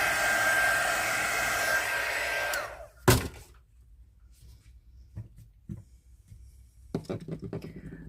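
A hair dryer blows loudly on a polyurethane resin shell for about three seconds and then cuts off with a thunk, followed by quieter handling knocks and clatter on a tabletop.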